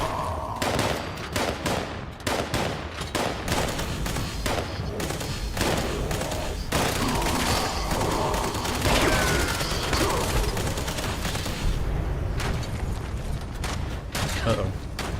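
Video game gunfire from a weapon fitted with a quad legendary mod, a dense sustained barrage of rapid shots and mechanical clatter filling the whole stretch.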